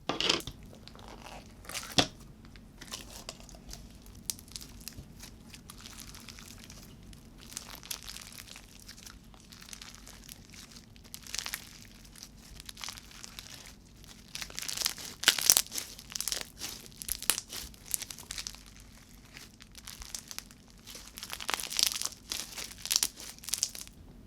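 Large-bead slime is squished and stretched by hand, giving a run of close, crisp crackles and sharp bubble pops in irregular bursts, growing louder and denser toward the end.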